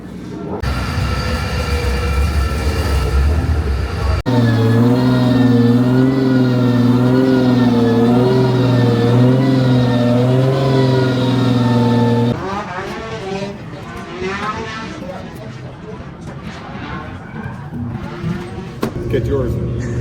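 Toyota GT86 drift car engine droning loud and steady with rising and falling revs, then shifting to rougher, changing engine noise with people talking over it.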